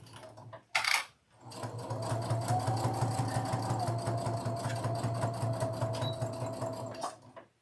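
A sewing machine stitches quilt block pieces, a close, steady rapid whirring hum with fast needle ticking for several seconds, then stopping, after a brief clunk at the start.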